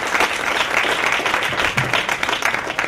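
An audience at a live stage event with teams competing bursts into steady, dense applause, loud and continuous throughout with no voices standing out above the clapping.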